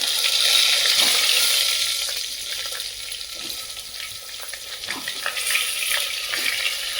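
Stuffed brinjals sautéing with cumin and asafoetida in a pressure cooker, a continuous hissing fry with light stirring scrapes, close and fairly loud, dipping briefly mid-way, no talking.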